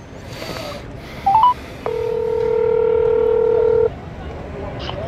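Telephone keypad dialing tones: a quick pair of short beeps, then a long steady tone lasting about two seconds, followed by a faint beep at the end, all clear and close with no talk.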